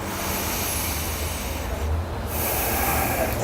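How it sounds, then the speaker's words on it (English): Slow, heavy breathing during mindfulness meditation, loud and close, with a continuous hissing rush of air and a brief lull midway. "but then I come back to my breathing"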